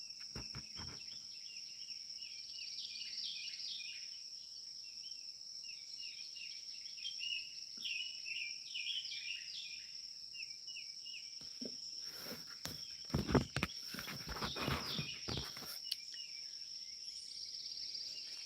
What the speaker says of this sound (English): I've been hearing birds since the sun even came up.